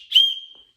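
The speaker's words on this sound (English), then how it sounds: "this also has a whistle on it too, so you can just friggin'" A survival whistle clipped to a hiking pack gives one short, shrill blast that starts sharply and trails off, sounding close and loud with nothing else around it.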